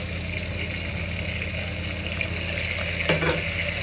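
Onion, garlic and ginger sauté in a pan for lamb shank biryani, a steady close sizzle with faint stirring scrapes and a brief clatter near the end.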